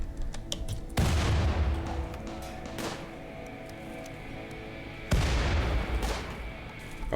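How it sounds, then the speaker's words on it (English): An automated turret fires in the colony game Rimworld, two loud booming bursts several seconds apart with rattling decay, separated by quieter game ambience and faint clicks. "our turret's shooting this guy"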